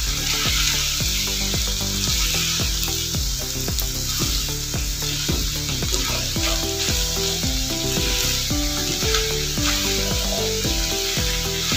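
Macaroni sizzles steadily in a hot pan while being stirred, with a continuous loud frying hiss broken by repeated scraping strokes of the spoon, and no voices.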